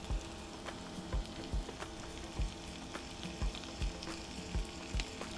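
Minced meat fries quietly in a pan with a soft continuous sizzle, broken by regular low thumps about every half second, like stirring or tapping, close and faint.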